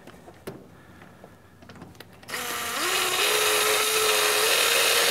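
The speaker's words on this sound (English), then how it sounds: "I have a cordless drill with a point in the end of it and a bar that will allow me to turn the compound." A cordless drill fitted with a point and bar turns a lathe compound feed while a toolpost grinder wheel arbor is machined. After a few quiet clicks and handling noises, a loud, steady whine starts, rises in pitch, then holds.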